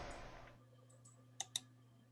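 Two sharp, close computer mouse clicks in quick succession while clicking a link in YouTube Studio, over a steady low electrical hum with no talk.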